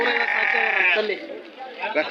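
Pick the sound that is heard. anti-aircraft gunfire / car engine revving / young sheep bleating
young sheep bleating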